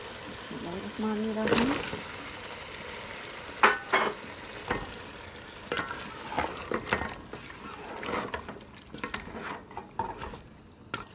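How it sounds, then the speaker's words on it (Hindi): Potatoes go into a frying pan for aloo methi and are stirred. A steady sizzle runs underneath, with repeated clacks and scrapes of a spoon against the pan and someone speaking between the strokes. "अब इसमें मैं आलू शामिल करूँगी।"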